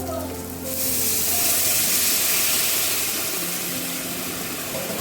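Water poured into a pan of frying eggplant sets off a loud, steady sizzle and hiss that jumps up under a second in and holds close and continuous to the end.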